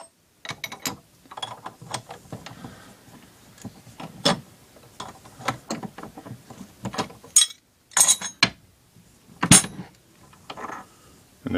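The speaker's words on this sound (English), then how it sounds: "I'll give it a good tighten this time" A collet on a 50 BMG bullet puller being tightened, giving a string of sharp metallic clicks and ratcheting clinks in irregular bursts, close and fairly quiet, with no talking.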